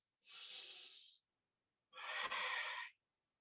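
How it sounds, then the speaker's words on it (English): Two deep, audible yoga breaths during a vinyasa flow, a long airy inhale and then an equally long exhale, close and clear with a short silence between them. "Two more breaths."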